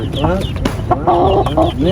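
Chickens cluck and squawk close by at a Gaziantep bird market, a busy, overlapping flurry, loud and continuous.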